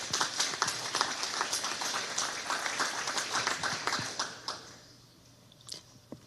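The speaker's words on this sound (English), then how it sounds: "I do not want to cut anyone's applause short" Audience applause at a civic association candidates' forum, dense clapping from a crowd that fades out over several seconds, leaving a few scattered claps at the end.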